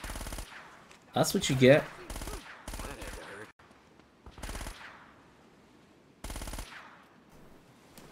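Gunfire in the video game Uncharted: Drake's Fortune, short bursts of automatic fire in several separate volleys with gaps between them, with a voice talking briefly.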